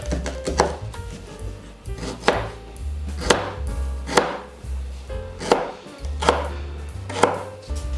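A knife chops carrots on a cutting board in a Romanian home kitchen while zacuscă is being prepared, with eight or so sharp, evenly spaced thuds ringing out close and clear, alone and without talk.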